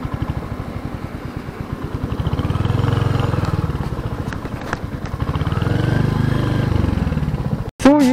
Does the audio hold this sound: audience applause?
no